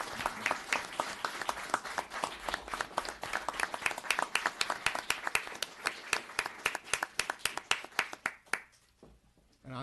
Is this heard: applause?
yes